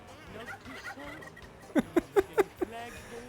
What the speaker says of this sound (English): why do the penguins sound like turkeys?